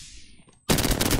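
Automatic weapon fire in the battle royale shooter Apex Legends bursts in loudly after a faint, fading high whine, a dense rapid stream of shots filling the rest of the moment.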